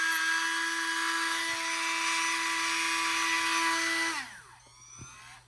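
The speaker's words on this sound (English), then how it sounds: "I'm using a cutoff wheel," Rotary tool with a cutoff wheel grinds through a lens hood in a steady high-pitched whine, close and continuous, then spins down with a falling pitch near the end as the tool is switched off.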